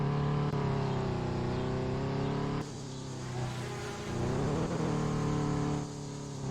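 Engine of a car racing around a circuit in the video game Midnight Racing, a steady loud drone with harmonic whine that dips and shifts pitch through turns, continuous with no talking.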